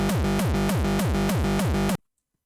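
Frenchcore kick drum heavily distorted with saturator soft clip, a rapid pounding series of about eight loud, buzzing pitched-down kicks in a steady fast rhythm, then abrupt silence.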